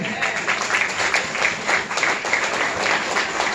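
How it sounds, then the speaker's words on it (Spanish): Applause from a church congregation during a sermon on spiritual warfare, a dense, steady wash of many hands clapping close by, sustained for several seconds with little variation and no talk over it. "aplauso al Señor."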